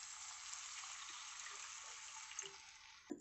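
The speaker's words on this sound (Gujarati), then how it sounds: "આમ સરસ રીતે મિક્સ થઈ જાય એટલે તેની અંદર પાણી એડ કરી લેવાનું છે" Water pours steadily into a rice and spice mixture for home-made jeera rice, a soft, continuous gushing that stays quiet and alone before a small clink at the end.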